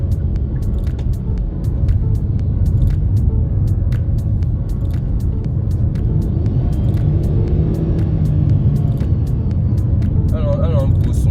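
Hyundai Santa Fe III engine heard from inside while driving, a steady low rumble with road noise running throughout, fairly loud and even, with a brief faint chirp near the end.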